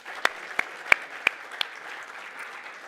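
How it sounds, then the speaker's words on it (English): Applause from an audience at the Sanlam Boland Cavaliers 2025 season launch event: a modest, steady patter of clapping with a few sharper individual claps standing out, heard at moderate distance with no talk over it. "Let's give Kwana another round of applause there"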